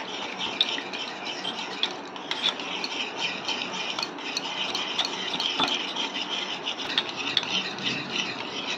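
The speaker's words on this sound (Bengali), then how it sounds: "ফেটে নেওয়া দইটার মধ্যে একটু মিশিয়ে এটা পুরোটা মিশিয়ে নেব।" Spoon stirring warm milk into whisked yogurt for Bengali misti doi, a steady close scraping and swishing that continues evenly with no talk.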